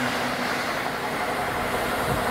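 A steady, broadband rushing roar of a JR East Hitachi limited express train running along the Joban Line rails at up to 130 km/h, even and continuous without pauses.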